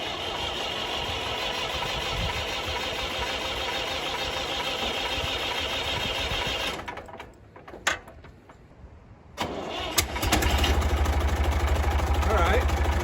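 A Massey Ferguson tractor engine runs steadily with a rough mechanical drone, drops away briefly, then catches again and settles into a deeper, louder idle.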